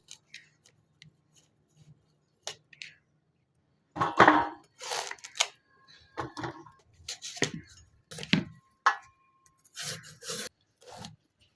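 Knife cutting bottle gourd, carrots and onions for a shrimp and gourd curry, heard as irregular close rasping and chopping strokes, sparse at first, then denser bursts of scraping cuts with brief pauses between them.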